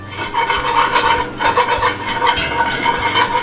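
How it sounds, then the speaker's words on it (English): A whisk scrapes and stirs flour into hot sausage grease in a pan for gravy, making a steady rhythmic scraping with a soft sizzle underneath, close and continuous. "1/3 cup of all-purpose flour. And all you got to do is just whisk that in."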